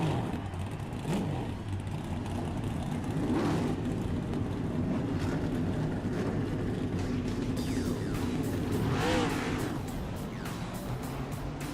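Race car engines at a speedway rumble and rev together at a distance, a steady roar with several swelling accelerations under crowd ambience.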